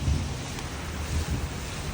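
A dense roar of heavy rain and gusting wind in a thunderstorm with lightning, loud and unbroken, with low rumbling buffets across the whole stretch.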